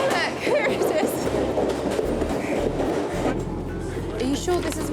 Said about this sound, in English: Oh look, how convenient, our train. Look, here it is.